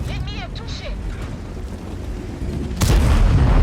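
Tank gun of an AMX 13 105 light tank firing in a World of Tanks-style battle on a steppe map, one loud boom about three seconds in that rolls on, following game ambience.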